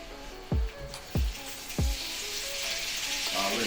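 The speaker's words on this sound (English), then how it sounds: "we're going to make sure the pan is hot, so it'll give it a nice sear" Steak hits a hot pan three times in quick succession, each drop a sharp thump into a loud sizzle that then settles into steady frying.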